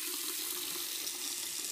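Filtered rainwater runs steadily from a tap after passing through a six-candle high-flow ceramic filter, a continuous close splashing hiss with no pauses and no voices.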